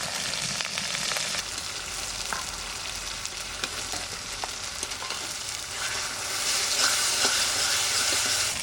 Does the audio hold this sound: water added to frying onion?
yes